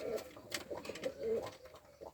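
Ödemiş Kelebeği pigeons, a twelve-year breeding line, coo repeatedly in a loft, soft throaty calls rising and falling close by with no talk over them.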